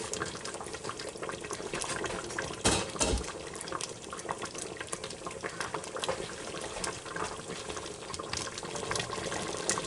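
Turkey vegetable soup simmering between medium and low in a Ninja Foodi Deluxe pot, giving a steady, close bubbling and hissing wash that runs throughout with one brief louder burst.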